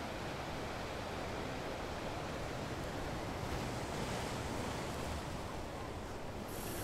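Sea waves washing onto the shore at Ratnagiri on the Konkan coast, a steady, unbroken roar of surf with a light windy hiss, no voices.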